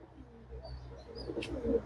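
An Andhra breed pigeon coos softly, its low, faint calls repeating over a quiet background with a brief, higher chirp near the end.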